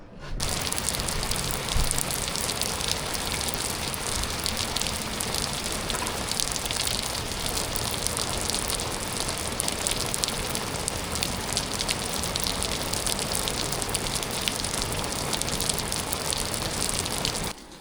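Steady rain pours down at night, a dense continuous hiss of drops pattering on surfaces close by, even and unbroken throughout with no voices.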